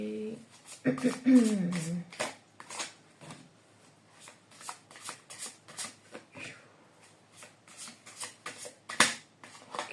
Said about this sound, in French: Je vais mettre aléatoirement une carte dans chaque case